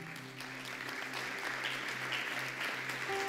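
A church congregation claps steadily during a Spanish-language sermon service, with a continuous dense wash of applause over low sustained keyboard or organ tones.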